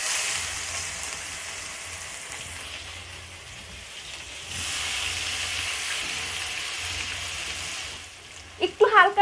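Chopped onions sizzle and fry in a pan for chicken jhal fry, a steady close hiss that swells midway, with a brief clatter of stirring at the end.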